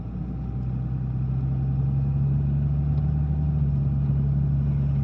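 2000 Dodge Ram 2500 4x4 diesel with a 47RE/48RE transmission running at light throttle, a steady, close low drone with a strong humming tone that holds evenly the whole time.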